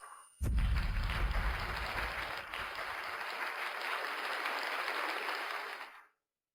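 Audience applause welcoming the president of a biotech company at a new drug presentation: dense, steady clapping that starts abruptly, holds for about six seconds, then fades out.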